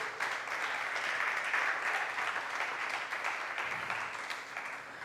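Dense, sustained applause from a church congregation, steady throughout with no voices standing out.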